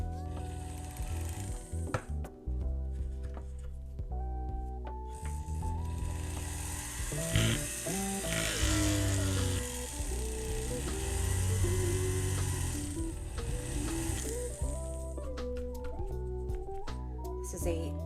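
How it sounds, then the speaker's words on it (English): A rotary tool fitted with a 2 mm round burr whirs steadily while cutting a jewelry flush setting, with the pitch shifting as it bears down, and soft speech now and then beneath it. "This is a 2 millimeter round burr."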